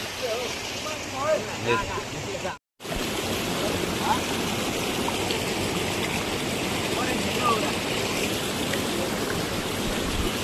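A small river stream flows steadily while being diverted for fishing, a continuous close rushing gurgle with a brief dropout near the start and faint voices early on.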